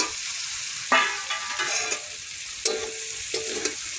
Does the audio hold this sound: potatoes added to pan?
yes